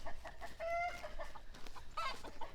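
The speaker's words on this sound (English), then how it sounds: "That's a good rooster though. He's just protecting his hen." A rooster guarding his hen gives short, close clucks and throaty calls, a few separate bursts with brief pauses between, no talk.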